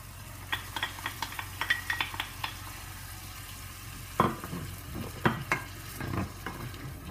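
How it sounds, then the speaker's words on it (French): Garlic and onion sauté in a pan for a kefta tajine, a quiet constant sizzle punctuated by clusters of spatula taps and scrapes, heard up close with no speech. "Une fois qu'on a fait revenir l'ail avec l'oignon"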